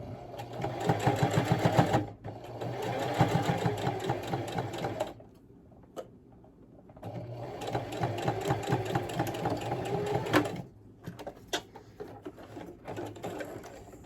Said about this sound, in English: And then I just keep on stitching.